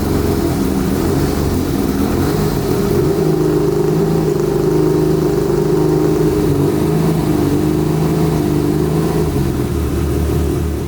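A Subaru with a flat-six engine revs loudly and close by, holding a sustained droning note with slight pitch swells, no talking over it.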